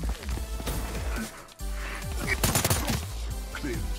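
Gunfire in Call of Duty Black Ops 3 multiplayer, with repeated sharp close shots and bursts over game effects and voices of players talking.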